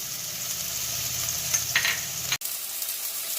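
Spice paste of ground coriander, ginger, garlic, cumin, Kashmiri chilli and turmeric frying in a pan with a little water, a close continuous sizzle with light stirring scrapes, ending in a sharp click.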